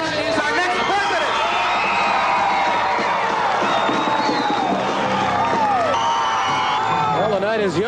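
A large crowd at an election night gathering erupts in sustained cheering, whoops and clapping when Ronald Reagan is projected winner of the 1980 presidential election, with loud, dense roaring throughout and shouts rising above the din.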